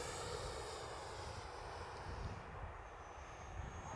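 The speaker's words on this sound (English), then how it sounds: "Sound is so good for a 64mm EDF jet." An FMS Futura 64mm EDF sport jet RC model in flight gives a steady, loud, roaring whoosh from its electric ducted fan. The roar eases slightly and then swells again as it passes, and no one speaks.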